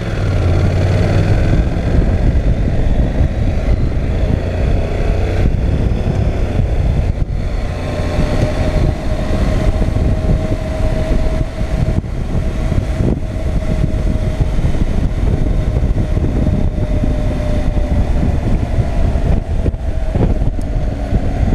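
A 2019 Honda NC 750 X motorcycle with a DCT automatic gearbox accelerates, its engine droning steadily and fairly loud over wind and road noise, with subtle shifts in pitch as gears change.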